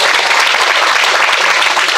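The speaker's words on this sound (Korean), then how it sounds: "박수 한번 보내드릴까요?" Dense, steady applause from a large audience at a Korean commemorative sports-day lecture event, loud and continuous with no talk over it.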